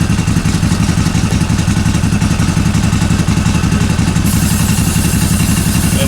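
A CFMOTO UFORCE 1000 side-by-side engine runs just after an oil change, with a loud, close, steady idle and a rapid even chugging and mechanical clatter throughout, and no talk.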